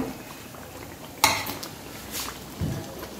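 Fried aloo kachori being lifted out and served onto a dish: one sharp metallic clink followed by lighter clattering of a utensil and soft bubbling of oil in the background.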